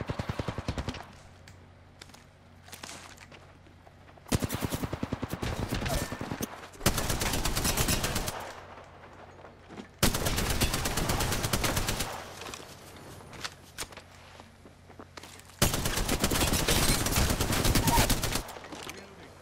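Apex Legends gunfire on PS4: four separate sustained bursts of rapid automatic shots, each loud and several seconds long, with quieter gaps between them carrying faint in-game ambience.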